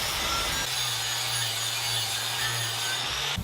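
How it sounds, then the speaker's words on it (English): Wire wheel on an angle grinder scrubbing torch marks off reclaimed copper pipe, a continuous loud, hissing abrasive whine with a steady motor drone, held without pause from start to finish. "I'll hit it again with the wire wheel on the grinder just to clean up the marks left from the torch."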